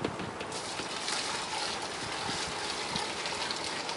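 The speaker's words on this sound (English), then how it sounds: "time to get the sparge water in here." Hot sparge water, about six gallons at around 169 degrees, pours steadily into a homebrew mash tun, giving a continuous loud splashing rush that runs unbroken throughout.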